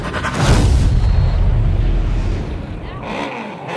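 Motocross bike engines idle and rev together at the starting gate of an amateur vet GP race, a loud, continuous roar heavy in the low end that swells and eases slightly throughout.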